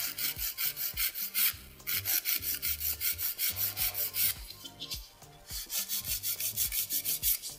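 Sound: filing acrylic powder nails

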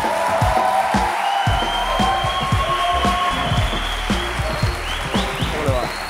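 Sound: studio audience applause

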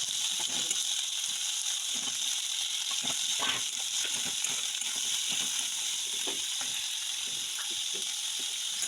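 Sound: stir-frying carrots and beans in oil

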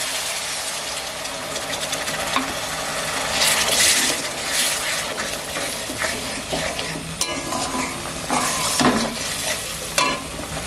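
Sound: water added to sizzling fried spice masala in pan

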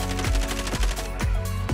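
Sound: gunfire in a shooter video game

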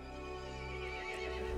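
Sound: horse neighing in video game Resident Evil Village

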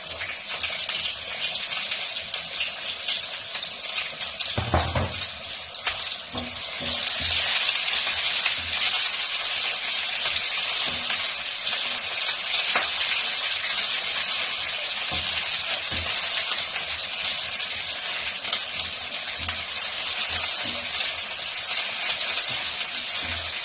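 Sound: onions sautéing in hot cooking oil

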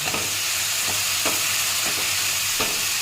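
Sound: stir-frying masala in oil

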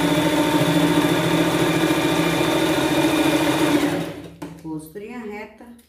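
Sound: sewing machine stitching a pet costume

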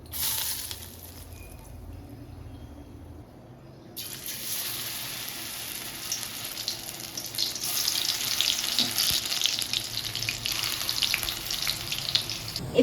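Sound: pakoras frying in hot oil

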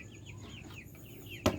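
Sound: laying hen chicks clucking

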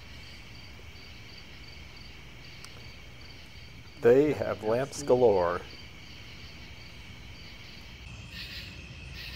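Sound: crickets and frogs at night

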